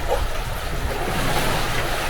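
Sailing boat out on the open Mediterranean between Greece and Italy, with a steady, close wash of waves and water rushing along the hull, mixed with wind buffeting the microphone, continuous and fairly loud throughout.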